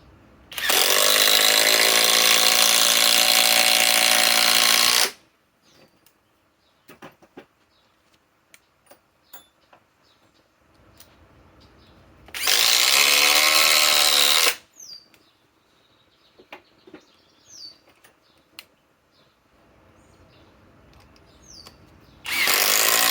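Impact driver sinking 4-inch timber lock screws into wood, two long loud bursts of rapid hammering whir, each about three to five seconds, separated by quiet handling clicks and small knocks.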